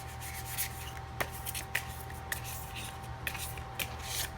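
Tarot cards being shuffled by hand, a soft continuous rubbing with small riffling clicks at irregular intervals, close and quiet over a low steady hum.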